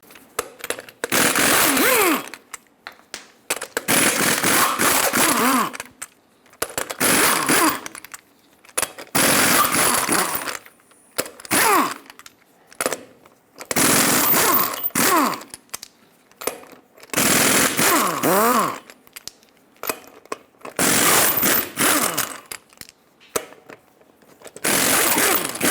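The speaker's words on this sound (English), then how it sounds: "Use a 22mm socket to remove all 8 lug nuts and then pull the wheel off." A 22mm socket on an impact wrench spins off eight lug nuts from a Ford E-350 Super Duty wheel, loud repeated rattling bursts of a few seconds each separated by short pauses.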